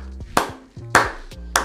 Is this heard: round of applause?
yes